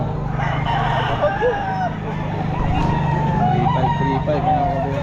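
A Boston Roundhead rooster crows at a busy pet market, with several crowing calls standing out over constant crowd chatter, clucking fowl and a steady low background hum.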